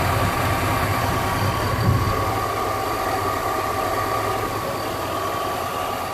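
A warmed-up 1977 Chevy Silverado K10 engine idles steadily and close by, a constant even rumble with a faint whine above it and no talking.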